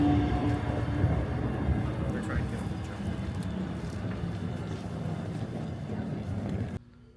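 A passenger train pulls away from a station toward Indiana, a broad low rumble with wind buffeting the microphone that fades gradually before cutting off near the end.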